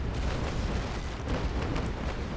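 A sailing warship's cannons fire a broadside in Naval Action, a rolling, continuous low rumble of blasts blending together, steady and moderately loud with no speech.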